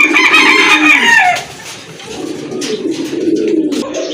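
Pigeons kept for sale, including Afsan grizzle and red checker birds, with a loud nearby crowing call that fades and then gives way to low, continuous cooing and rustling.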